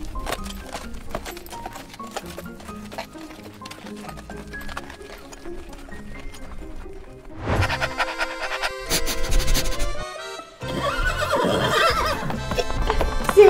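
A toy horse ridden by a doll in a playful setting: steady rhythmic clip-clopping hooves, then loud whinnying and neighing over layered sound effects, close and prominent.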